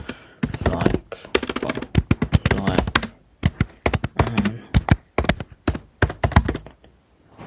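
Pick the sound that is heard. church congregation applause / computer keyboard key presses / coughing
computer keyboard key presses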